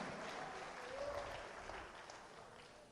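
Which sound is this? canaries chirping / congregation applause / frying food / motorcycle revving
congregation applause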